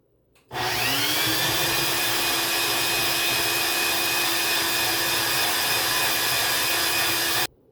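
A Ninja blender whips cream for hot chocolate, kicking on abruptly and running at a loud, steady, high-pitched whir for about seven seconds before cutting off.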